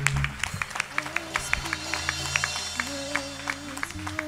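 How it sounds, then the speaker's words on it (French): A church congregation claps in a steady rhythmic beat, loud and close, while a preacher speaks over the clapping with music in the background. "Clap for the Lord"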